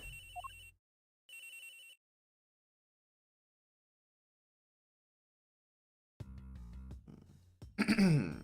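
Electronic cell phone ringtone from the Ace Attorney game sounds in two short bursts, then a long silence, followed by other game sound effects and a sharp vocal noise at the end.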